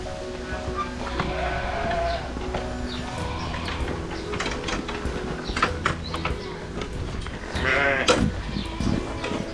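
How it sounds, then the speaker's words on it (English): Sheep bleating in a lambing flock, including a ewe that has just given birth, with several overlapping calls and a louder close bleat near the end over a busy farmyard background. "So that ewe there just had a lamb right there."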